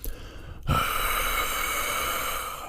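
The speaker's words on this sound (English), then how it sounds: "What you can do is use a squeezed H sound like this." A short breathy sound, then a squeezed H choir warm-up: a sharp forceful exhale through a constricted throat that holds as a steady airy hiss.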